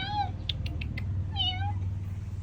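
A cat in a house in India gives two short, high meows about a second apart, close by over a steady low background hum, with no talking during the calls.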